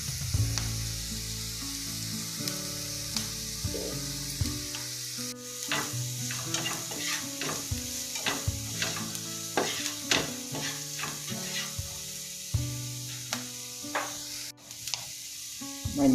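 Turmeric, coriander and chili powders sautéing with egg in a hot pan for egg parotta, a steady sizzle broken by repeated sharp scraping and stirring strokes of a utensil, close and continuous with no talking.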